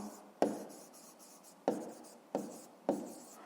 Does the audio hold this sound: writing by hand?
yes